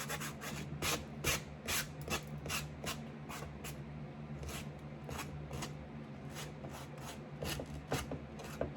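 A rough sanding block rubbed over a picture collage during decoupage work, giving repeated short rasping strokes in an uneven rhythm, close and moderately quiet, no talking.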